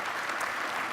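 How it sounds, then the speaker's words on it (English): Applause from an audience at a national meeting, thanking the day's speakers: a dense, steady wash of many hands clapping, continuous and fairly close throughout the short burst. "If we could have some applause for our speakers here today."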